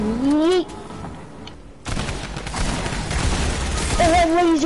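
Rapid gunfire erupts in Fortnite, a dense sustained volley of shots following a quieter stretch, with people shouting and talking over the start and end of the shooting.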